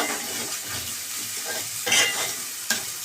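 Masala with chilli powder fries in a pan, a close, steady sizzle with scraping stirs and a couple of brighter bursts of spitting oil near the end, no talk.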